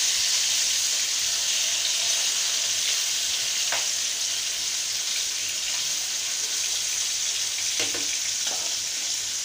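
Hilsa fish pieces frying in hot oil, a loud continuous sizzle close by, with a few brief scrapes and taps as the pieces are turned over one by one.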